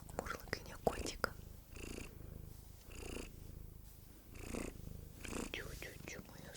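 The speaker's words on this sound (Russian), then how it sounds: "Вам досталось мурлыканье котика." A white pet cat purrs close and soft in a steady low rumble, with whispered talk weaving over it in short bursts throughout.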